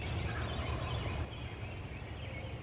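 Wild turkey gobbling outdoors in spring woods, a rattling burst of calls carrying over steady outdoor background noise, fairly distant, with no talking.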